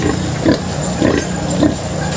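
Pigs and piglets grunt in a pen with three evenly spaced low, snorting grunts over a constant background murmur.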